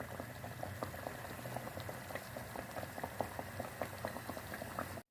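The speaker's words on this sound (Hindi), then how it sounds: "इसको आपने घी में ही फ्राई करना है।" Sweet tikki dough patties frying in ghee give a steady bubbling crackle with scattered pops throughout, fairly quiet and continuous, with no voices.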